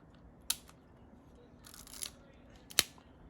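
A Rollei 35 compact camera fires its shutter in a few quiet, sharp clicks spread over a few seconds, with nothing else nearby.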